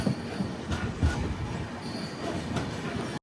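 The Hampi Express train slows to a stop at Annigeri railway station, a close, steady rumble of rolling wheels and carriages with faint squeals.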